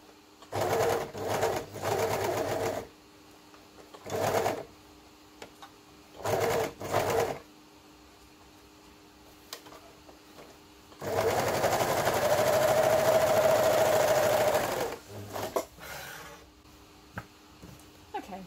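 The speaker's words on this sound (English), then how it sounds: "Just a bit trickier on the overlock." An overlock sewing machine stitching around a fly zip, several short close whirring bursts followed by a longer steady run, then a few quick stops and starts.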